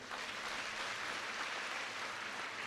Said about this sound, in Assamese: আপোনালোকে এটা ডাঙৰ হাত চাপৰি বজাই দিয়ক।